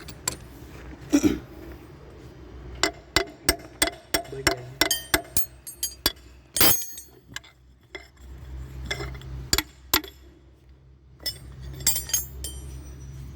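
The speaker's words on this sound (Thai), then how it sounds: "ต้องเอาค้อนมาเคาะ" Sharp metallic taps and clinks from a hammer tapping a car part into place ring out irregularly, close up, some single and some in quick clusters, over a low background hum.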